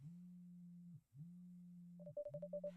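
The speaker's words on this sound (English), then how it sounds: "My phone vibrates in my pocket" A mobile phone vibrating in a pocket gives three long, steady low buzzes separated by short gaps, with a quick run of bright beeps over the final buzz.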